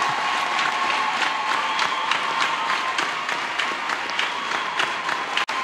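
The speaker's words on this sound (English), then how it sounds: "Let me stand up so that I may clap your hands much better." Congregation at a church sermon applauding, with loud, sustained dense clapping and some cheering throughout, cutting off briefly near the end.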